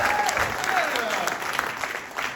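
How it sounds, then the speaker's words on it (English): Audience applause at a live evening debate show, a dense, steady wash of clapping from a crowd lasting the whole stretch at moderate loudness. "Let's give yourself a round of applause."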